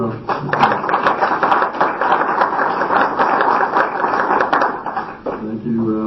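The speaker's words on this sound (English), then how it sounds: "let's give a round of applause" A round of applause in a city council chamber, brisk uneven clapping from a small group heard close through a meeting microphone, with a voice starting to speak as it fades.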